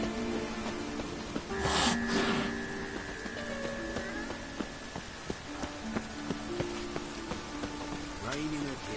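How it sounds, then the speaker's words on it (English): Steady rain hisses in The Witcher 3: Wild Hunt, a soft constant wash beneath voices and faint game noises. "Raining again."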